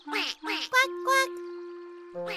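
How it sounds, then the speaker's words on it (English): A little cartoon duck in an animated children's show gives a few short, nasal quacks close up, followed by a sustained musical tone. "Oh, the little duck's here. Quack, quack."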